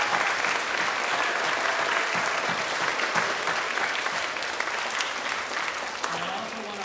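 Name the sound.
audience applause after a handbell concert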